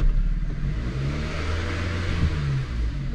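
Engine of a 2008 Dodge Avenger with a power fault that won't rev, a steady low rumbling drone that stays flat without climbing, close and alone.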